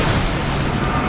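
A loud, sustained rumbling crash as the Radiant middle tower collapses in Dota 2, a dense boom filling the whole brief moment without distinct separate hits.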